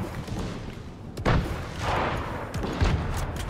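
Bombs bursting in a video game lobby, a sharp blast near the start of the second half followed by dull booming rumbles and another thud toward the end, all over a constant noisy game backdrop.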